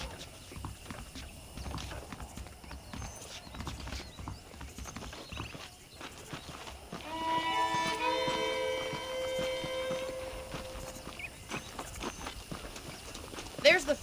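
Horse hooves clip-clopping in the Red Dead Redemption video game, a steady rhythmic gait at a walking pace under game music and ambient sound, with a horse whinny faintly mixed in.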